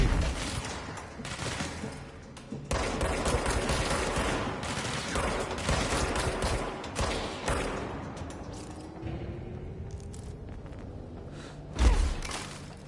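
Sniper fire in the video game Control: a sustained, dense barrage of shots and impacts that thins out toward the end, with one heavy thud near the close.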